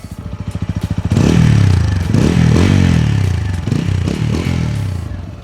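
A 2021 TVS Apache RTR 200 4V motorcycle exhaust rumbles low and steady, rising as the engine revs up after the first second and holding a loud, throaty drone.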